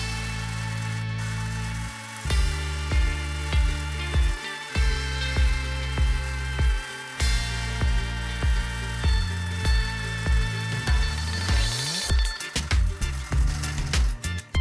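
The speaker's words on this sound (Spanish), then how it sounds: "el taladro está vibrando mucho" A power drill runs with a heavy vibrating rattle, pulsing in regular surges roughly every half second, close and loud throughout with no talking, while building an MDF floor base for an Olympic barbell.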